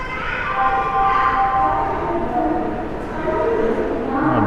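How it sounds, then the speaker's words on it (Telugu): A local passenger train between Chennai and Kanchipuram passes with a prolonged horn-like tonal blare over rolling rail rumble, fairly close and loud, fading slightly midway before swelling again. "చెన్నై నుంచి కాంచీపురం రావడానికి లోకల్ ట్రైన్ అనమాట ఇది"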